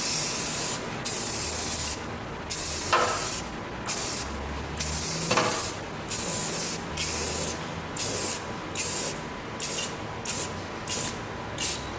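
Aerosol spray paint applied inside a BMW E30 engine bay, a series of close hissing bursts of about a second each separated by short pauses, coming quicker toward the end.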